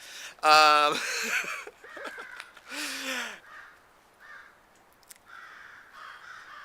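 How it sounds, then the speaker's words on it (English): A person talks while crows caw in the background, a few harsh calls scattered among the speech and quieter stretches. "I wish those fucking crows would shut up."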